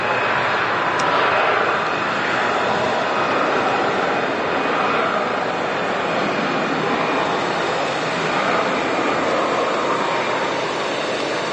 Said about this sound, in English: Nice to open the show with a nice wide body arrival. In this case, the Saudi Dreamliner, the Boeing wide body.